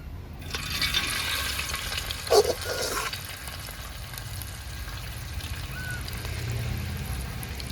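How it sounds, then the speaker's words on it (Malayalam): Hot tempering is poured into beetroot pachadi, giving a brief sizzle and splash in the middle, surrounded by a faint, steady liquid background. "ഈ താളിക്കാനായിട്ടുള്ള ഇതിൻ്റെ അകത്തോട്ട് ഒഴിച്ചു കൊടുക്കുക"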